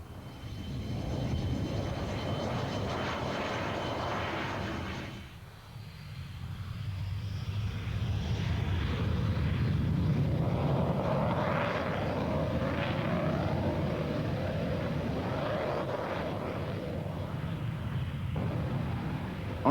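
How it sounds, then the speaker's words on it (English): A MiG-15 jet aircraft taking off gives a loud sustained engine roar that dips briefly, then surges into a broad rushing thunder that holds steady without talk. "On takeoff, the MiG easily outdistanced its two F-86 chase planes"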